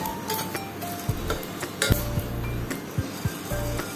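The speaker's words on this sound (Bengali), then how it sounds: "খুব সামান্য মানে জাস্ট হালকা করে আমি নাড়িয়ে চাড়িয়ে জিনিসটাকে রোস্ট করে নেবো গ্যাসটাকে একদম কমে রেখে" Whole cumin seeds dry roasting in a pan over a low gas flame, stirred with a utensil that clinks and scrapes against the metal in scattered light taps.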